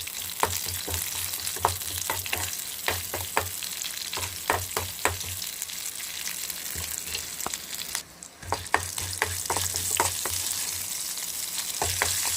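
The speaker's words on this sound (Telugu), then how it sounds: "ఆయిల్ హీట్ ఎక్కినాక కొంచెం కరివేపాకు తారుమి గింజలు బుదులు వేసి ఫ్రై చేసేసుకున్నాం" Curry leaves and seeds crackle and fry in hot oil for a tempering, a steady close sizzle peppered with frequent sharp pops and spits, briefly dipping before the frying resumes.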